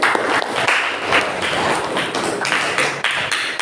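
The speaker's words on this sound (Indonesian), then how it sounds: "Tepuk tangan untuk semuanya." Classroom group clapping in a rhythmic pattern, with bursts of many hands slapping together in repeated pulses at close range and no voices over it.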